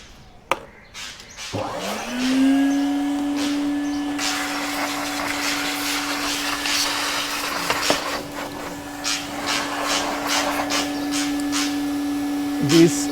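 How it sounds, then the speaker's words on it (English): Compressed air blasts through a dirty car engine bay fouled with rat droppings. A loud, steady whooshing hiss with a constant whine holds throughout, broken by faint knocks and rattles, and a brief sharp click comes near the start. "Now I will blow some compressed air."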